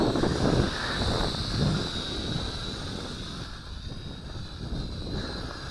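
A Syma X5C quadcopter drone flies aggressively into a breeze outdoors. Its rotors give off a steady, moderately loud buzzing whine, and gusts of wind rumble over it in waves.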